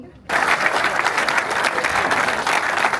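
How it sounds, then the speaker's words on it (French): An audience applauds at a foundation-stone ceremony for the Ricard space, with dense clapping starting abruptly after a brief quiet moment and holding steady and fairly loud to the end. "On peut les applaudir bien"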